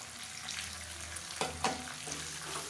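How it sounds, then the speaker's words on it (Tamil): Garlic, onion, mint and coriander sautéing in a pan for a nookal chutney, a steady close sizzle with a couple of brief stirring scrapes. "இது எல்லாத்தையும் நல்லா வதக்கிக்கலாம்"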